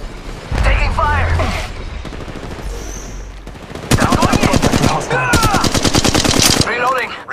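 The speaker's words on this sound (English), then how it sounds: "They're shooting at me!" Rapid automatic gunfire in Apex Legends Mobile, loud close bursts of evenly spaced shots in two long strings, with a voice heard in between the volleys.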